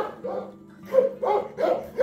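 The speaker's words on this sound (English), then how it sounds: "It's kind of the dogs you see in all these Tibetan areas, a Mastiff kind of dog, just going crazy." Tibetan Mastiff-type dogs, one tied up outdoors in a wintry Tibetan area near Jiuzhaigou, bark wildly in a rapid run of four loud, close, deep barks with no talk.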